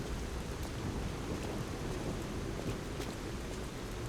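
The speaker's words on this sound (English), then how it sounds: "The rain effects are just so good." Steady rain and rumbling thunder fill a stormy scene in the video game Lies of P, a dense continuous downpour with low booming thunder underneath and scattered drop impacts, with no voices.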